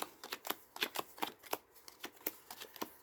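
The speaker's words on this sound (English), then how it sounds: "It cuts the deck." Rapid crisp clicks and flicks of a deck of playing cards being cut, a quick irregular run of papery snaps close by.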